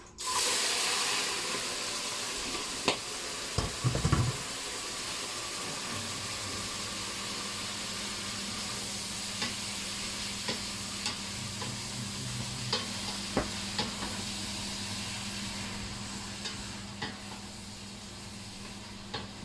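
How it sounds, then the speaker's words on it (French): Shrimp seasoned with garlic, pepper and salt cook in oil in a paella pan: a loud, steady hiss and sizzle throughout, with a low rumbling thump early on and scattered crackles and pops. "Je mets 2 cuillères à d'huile dans mon pétou. Et je mets les crevettes."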